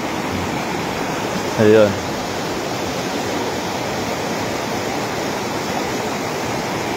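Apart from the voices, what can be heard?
strong water current flowing at a dam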